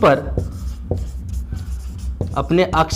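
Light scratching and tapping of writing on a board, heard beneath a teacher's continuous Hindi lecture speech.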